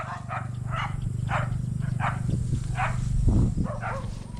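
A dog barks repeatedly at a steady pace somewhat in the distance, over a constant low hum.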